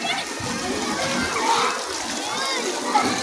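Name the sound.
splashing while swimming in water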